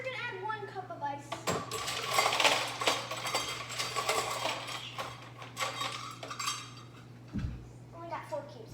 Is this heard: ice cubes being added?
yes